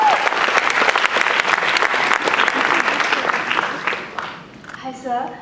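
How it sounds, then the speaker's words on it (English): A full audience at a live university interaction with students in Singapore applauds a student, dense steady clapping that fades out near the end. "let's give her a round of applause"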